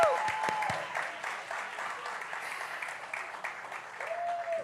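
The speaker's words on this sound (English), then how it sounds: "All right, clap it up, everybody." Applause from an audience at a community grant award ceremony in a church, steady clapping of moderate loudness lasting throughout, with a brief tonal sound near the start and near the end.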